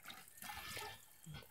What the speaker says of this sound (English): it pumps the water from the bucket up into her hair